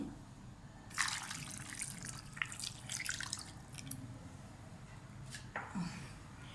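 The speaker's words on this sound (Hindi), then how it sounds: "इसमें मैं डालूंगी 1 गिलास पानी।" A glass of water is poured into a pot of potatoes for boiling, a splashy gush starting abruptly, then trickles and drips, followed by a brief clatter near the end; quiet and close.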